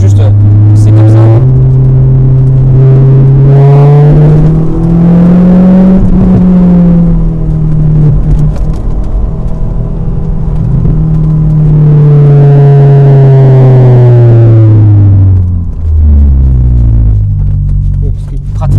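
A Honda S2000 with a 240 hp VTEC engine revving toward 9000 rpm on a track, its loud engine note rising and falling in long sweeps, with a voice heard at moments.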